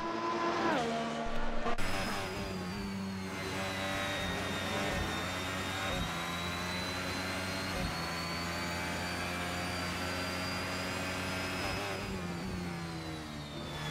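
A race car engine at full throttle in a racing video game set at Melbourne's Australian GP circuit, a loud sustained high-pitched whine that climbs steadily with brief drops at gear changes, running alone throughout.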